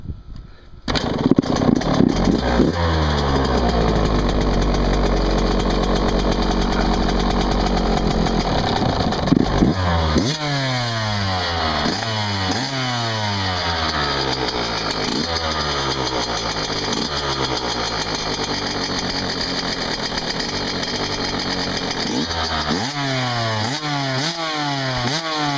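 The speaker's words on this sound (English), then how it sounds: "let it idle for a little bit so you can hear it." A 1999 Yamaha YZ125 two-stroke dirt bike kickstarts cold on choke and idles loudly and unevenly for about 25 seconds, with repeated blips of the throttle rising and falling.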